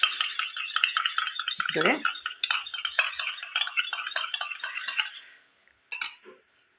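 A spoon beats an egg briskly in a bowl, rapid rhythmic clinking and scraping close up for several seconds before stopping, with a few final taps; a voice speaks briefly.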